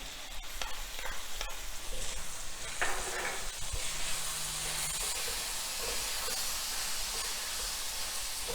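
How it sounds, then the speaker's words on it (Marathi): Tomatoes tipped into onions already sautéing in a pan for a ghee roast chicken, giving a steady close sizzle with stirring scrapes and a brief hiss of steam, no talking. "आता ह्यामध्ये आपण टोमॅटो घालणार आहे"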